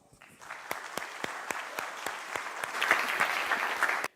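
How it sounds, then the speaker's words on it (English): Audience applause at a security conference talk: steady, evenly spaced claps from a modest crowd, moderately close and building slightly before ending abruptly, with no talking over it. "So round of applause."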